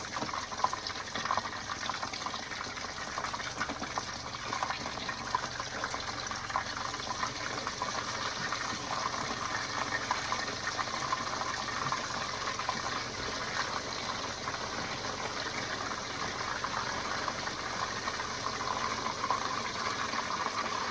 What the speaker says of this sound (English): So we're going to kind of see if we can get these things going and frying here